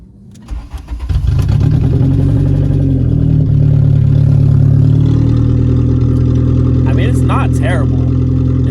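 An MK2 Jetta race car's engine with the muffler fallen off, catalytic converter still fitted and exhaust otherwise open, fires up in the Daytona infield and settles into a loud, steady, raspy idle close by.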